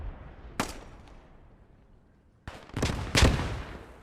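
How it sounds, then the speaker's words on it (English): Grenade fire in a military video game, a sharp blast followed by quiet, then a cluster of heavier explosive bursts with rumbling tails, moderately loud and distant-sounding. "Chili's taking some grenade fire."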